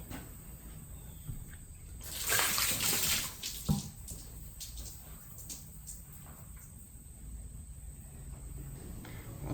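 Water splashes onto a freshly cut walnut wood slab from an old yard tree in a short, louder burst of about two seconds, then fades to a quiet outdoor background with faint insect and bird sounds.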